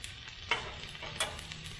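Fried rice with chicken, shrimp, egg and broccoli sizzles steadily on a Blackstone griddle, with two sharp scraping strokes of a spatula standing out near the start and middle of the steady frying hiss.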